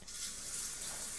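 A running shower in The Sims 4 video game, a steady soft hiss of falling water with no pauses, faint and even across the moment, no voices.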